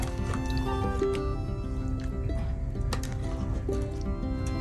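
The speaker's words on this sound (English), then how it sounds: "So just ladle it up into your serving bowls." Shrimp and broth ladled into serving bowls, giving soft wet squishes, sloshes and drips close by over a steady humming background with faint tonal lines.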